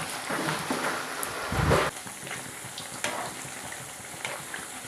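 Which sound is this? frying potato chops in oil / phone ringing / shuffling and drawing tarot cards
frying potato chops in oil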